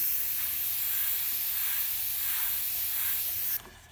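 Close, steady airbrush hiss as toxic green true fire flames are sprayed through a stencil, an even broadband spray for several seconds before the air cuts back to a quieter hiss near the end.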